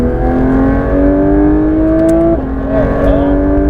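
A Porsche 992 GT3 RS accelerates hard on a race circuit, its engine note climbing steadily, a brief dip at a gear change and then rising again, loud and close from inside the car.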